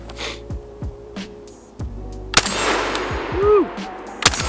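IWI TS12 bullpup shotgun firing outdoors, sharp loud reports at the start and near the end, separated by clanks and handling noise and a mechanical rattle as the gun jams.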